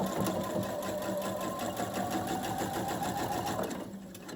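A sewing machine stitches fabric in a fast, even mechanical whir with rapid rhythmic ticking, close by and continuous for about four seconds before it slows and softens near the end.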